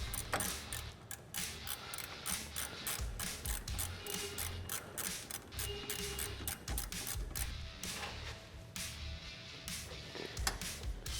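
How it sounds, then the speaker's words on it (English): A ratchet wrench tightens brake caliper hardware on a Polaris Ranger, giving a dense, continuous clicking and mechanical rattle that runs throughout, close and steady, with no voices. "Fully tighten your brake caliper hardware."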